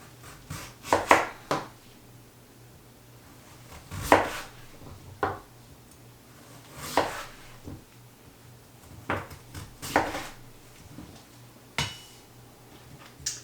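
A knife cuts through a vegetable on a cutting board as soup ingredients are prepared, giving a string of crisp, separate chops and taps at an irregular pace over a quiet room hum.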